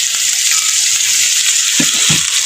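Milk taro pieces seasoned with salt and turmeric fry in a pan with a loud, continuous bright sizzle, broken near the end by a few soft stirring knocks.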